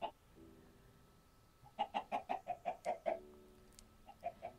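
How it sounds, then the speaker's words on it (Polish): A Minecraft chicken clucks in a quick run of about eight evenly spaced clucks, followed by a few more, near and moderately loud with quiet background between. "A nie tylko kurczaki."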